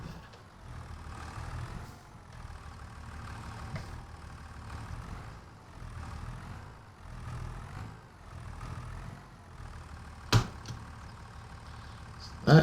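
A tractor engine in the Farming Simulator 25 video game runs steadily in reverse, a low rumbling drone with a couple of sharp clunks near the end.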